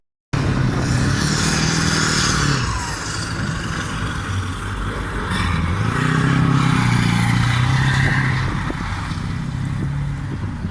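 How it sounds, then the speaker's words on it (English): Tanks and armoured vehicles on manoeuvres drive past with heavy, rumbling engines and clattering tracks, rising and falling in loudness as they approach and move along, heard outdoors at moderate distance. "you can sort of see all the tanks and the armoured vehicles coming by and doing their manoeuvres"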